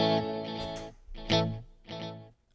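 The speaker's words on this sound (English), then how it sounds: "now we got a nice clean tone with a big old hall reverb" Clean electric guitar chords through a Fender Mustang GTX amp struck in a few separate bursts, each ringing out into a spacious hall reverb tail, with no one talking.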